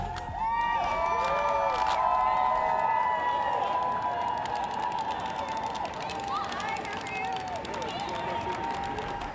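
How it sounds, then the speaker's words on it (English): A crowd gathered on an outdoor plaza for a United Way annual campaign kickoff party makes a steady, loud hubbub of overlapping voices and cheers, with bright tonal sounds running through it for the full length. "Boy, we have gathered quite a crowd, have we not, for the United Way's annual campaign kicking off today."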